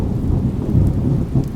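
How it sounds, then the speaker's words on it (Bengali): Deep rolling thunder rumbles over steady rain as an audio drama effect, loud and low, swelling in a few waves across a short stretch with no voices. "গুম গুম করে বজ্রগর্ভ মেঘের গর্জন আসছে"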